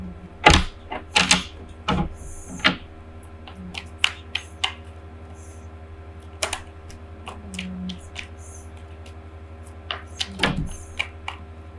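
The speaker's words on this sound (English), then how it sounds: "Cards are flying out." Tarot cards spill and slap down during shuffling, giving scattered sharp clicks and flicks over a steady low hum, with a few louder clusters and quiet gaps between them.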